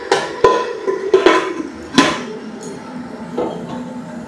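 A metal lid clanks onto a cooking pan while pui shak greens cook, with a few sharp clinks and knocks in the first two seconds, then quieter sizzling and an occasional tap.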